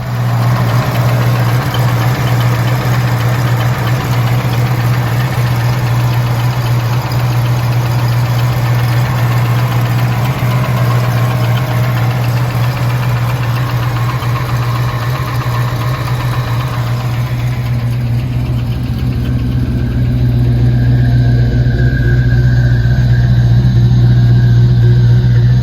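A twin-turbo 5.0 V8 in a 1985 Ford Mustang GT idles loud and close, a steady mid-pitched engine drone with a slightly knocking texture that holds evenly throughout.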